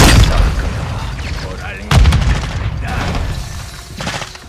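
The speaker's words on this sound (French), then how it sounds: "Tourelle, le détonateur pour la faire exploser." A turret is blown up with a detonator in Call of Duty: Modern Warfare 2, heard as a loud opening blast with a sharp second explosion and crackling debris, amid dense game noise.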